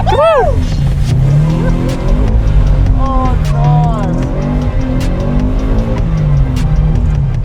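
A Subaru BRZ or Toyota 86 slides around a skid pan, its engine droning loud and steady with rising and falling revs and brief tire squeal, while excited voices shout and cheer over it throughout.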